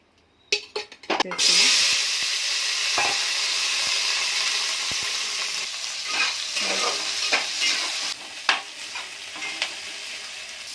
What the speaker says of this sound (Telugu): కరివేపాకు, ఆనియన్, పసుపు. ఇవన్నీ ఇప్పుడు మనం ఫ్రై చేసుకుని తర్వాత చేసుకుందాం.